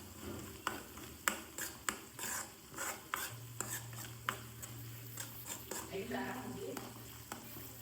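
A spoon scraping and tapping as garlic chili powder mixture is stirred in a pan, with a rhythmic series of clinks and a soft sizzle beneath, while a person talks over it.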